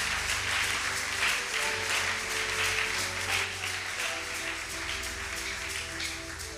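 Church congregation applauding and cheering with acclamations during a worship service, a steady dense wash of clapping mixed with voices and music, loud and continuous throughout.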